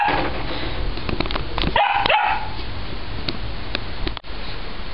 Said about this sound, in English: we have a dog here, Bossy the puppy